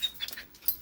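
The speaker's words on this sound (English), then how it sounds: "I have two dogs that are about to explode over here." Two dogs eager to go outside, panting and whining in short, quick breathy bursts with a few soft high whimpers, close and fairly quiet with no talk.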